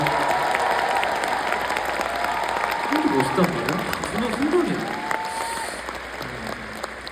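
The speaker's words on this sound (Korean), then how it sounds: "큰 박수 한번 부탁드립니다." Concert crowd applauds the bass drummer at a band introduction, steady dense clapping throughout with cheers rising midway, while someone talks over it.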